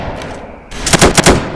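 Sharp gunshot bursts in the Roblox shooter Bodycam, a quieter stretch giving way to several loud, closely spaced shots near the player.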